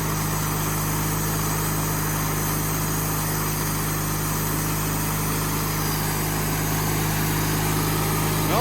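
A saw runs while cutting long-weathered old logs into sawdust, giving a loud, unbroken engine drone that holds steady from start to finish without obvious bogging or pauses.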